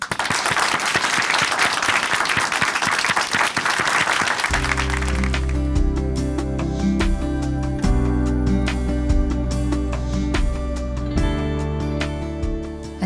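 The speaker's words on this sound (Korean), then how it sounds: "춘천 한마음교회 이유정 자매님 큰 박수로 모시겠습니다." A church congregation applauds warmly to welcome a testimony speaker, clapping densely for about five seconds before music with steady low tones takes over while the clapping fades beneath it.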